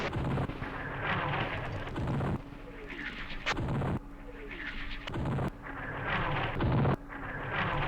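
Artillery fire in the wargame Campaign Series West Front during Operation Sealion: a run of repeated booming shell blasts at regular intervals, each followed by a descending whistle-like tail, moderately loud.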